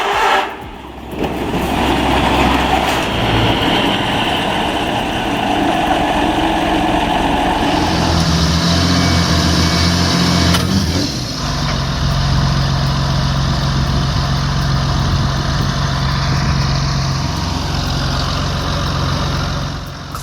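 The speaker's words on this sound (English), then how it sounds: "Imagine this beast with its 290 horsepower Cummins engine, effortlessly dragging 18 tons of irrigation gear right from a shipping container" A tractor with a 290 horsepower Cummins engine drags an 18-ton load of irrigation gear on a farm, its heavy diesel drone loud and continuous and shifting in pitch midway as the load strains.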